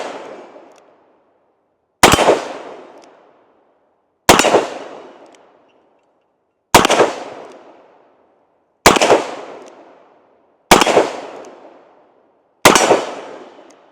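Seven sharp, loud .357 Magnum shots from a Ruger GP100 revolver with a 6-inch barrel, fired single action at a slow, even pace roughly two seconds apart, each crack ringing out with a decaying tail and silence between.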